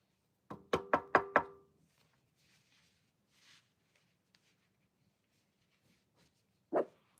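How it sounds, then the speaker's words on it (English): Four quick, loud knocks sound in a tight burst, followed by a long quiet stretch with a faint stir, then a single sharp bark from a dog named Ruthie. "I knocked and Ruthie barked."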